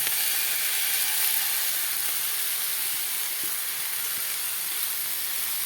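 Bell pepper (capsicum) cooking in a pan for an onion curry, giving a steady, close sizzling hiss that holds evenly throughout, with no talking.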